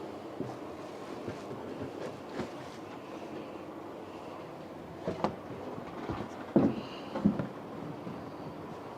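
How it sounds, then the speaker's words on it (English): A Märklin tinplate model train made in Germany runs along its track with a quiet, continuous rolling rumble, joined by a few sharper clicks and knocks near the end. "Oh, the train pushes them open."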